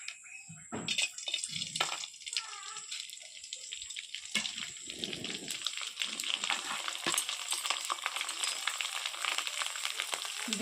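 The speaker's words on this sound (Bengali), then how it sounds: "এবার আমি চাকা পাঁপড়গুলো ভেজে নেবো" Homemade wheel-shaped papads fry in hot oil, crackling and bubbling loudly and continuously, with a few sharper splashes and clatters near the start.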